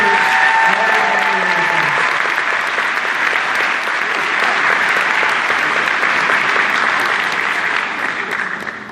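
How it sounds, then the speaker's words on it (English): At a baccalaureate graduation ceremony, a large audience gives a sustained, loud round of applause for parents and teachers. Dense clapping fills the hall for several seconds with a faint murmur of voices beneath it, then tapers slightly at the end. "let's take a moment and give a big round of applause, graduates, to your parents that are here"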